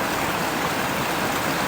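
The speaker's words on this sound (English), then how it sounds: "Can you see the water cascading just above the embankment?" A waterfall cascading down over an embankment in New Zealand, heard as a steady, dense rushing wash of water with no breaks, loud and fairly close, with no voices.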